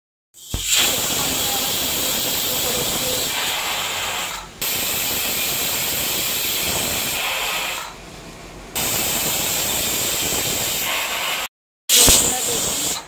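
A pressure cooker boiling chickpeas on a gas stove lets out loud, sustained hissing bursts of steam, three long blasts broken by brief pauses and a short final spurt, close and steady with no speech.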